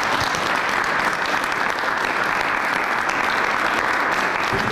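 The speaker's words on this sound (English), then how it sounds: "I want a big round of applause for all of our artists" Audience applause for student artists at a district student art show in a state house, steady dense clapping throughout, loud and close with no voices over it.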